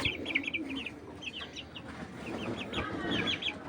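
Several chickens, shown as an original purebred type, cluck in short repeated bursts on grass. The clucking is nearby and moderately loud over a steady background, and no one speaks.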